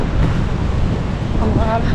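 Sea waves wash against a nearby shore littered with trash, a loud continuous surf rush mixed with wind buffeting the microphone.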